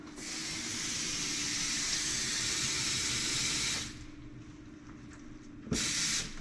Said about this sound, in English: I am going to add a little bit of water to this, not a whole lot.